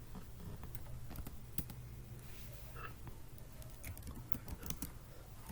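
Quiet, rapid typing on a computer keyboard while notes are written, a continuous patter of soft clicks at a low, even level with no talking.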